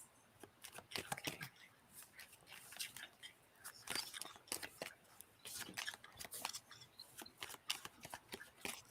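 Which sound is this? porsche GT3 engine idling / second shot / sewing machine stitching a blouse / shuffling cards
shuffling cards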